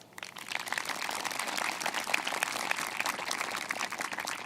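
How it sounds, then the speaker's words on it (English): Sustained crowd applause at a high school graduation ceremony, a dense wash of many hands clapping steadily from start to finish with no talk over it. "Please give him a round of applause."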